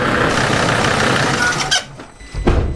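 A diesel engine idles during an injector test. The near, broadband running noise comes with a squeak, then drops away as the engine is cut, leaving a short quieter tail.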